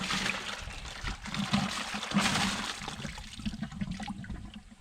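Compressed air driven through a car's cooling system flushes water out in gushing, sputtering bursts, a rough turbulent hiss over a low hum, with no talking.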